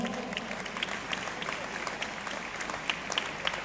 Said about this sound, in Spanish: También un aplauso para ellos